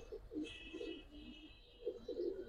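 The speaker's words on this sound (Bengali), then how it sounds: "এই যে জোড়াটা আছে, নর তো ভাই পুরা জেট কবুতর" A pair of silver Bagha pigeons, the male a jet-type bird, coo in a series of soft, low, rounded calls that come in short bursts with pauses between them. A thin steady background hum runs underneath.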